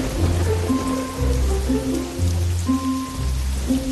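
Rain falls in a steady patter on a surface, soft and continuous, with faint tonal music-like notes running underneath.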